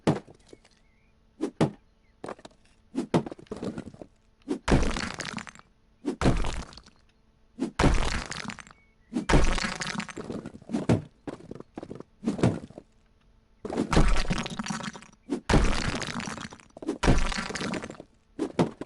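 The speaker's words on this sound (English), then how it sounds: "just hoping I'm destroying the right wall." Repeated heavy thuds and crunching breaks as a wall is smashed apart in the House Flipper video game, coming in a steady series of loud, separate impacts with short pauses between them and no talking.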